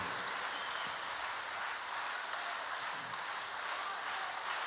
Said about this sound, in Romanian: Culegeți-vă aplauzele toate.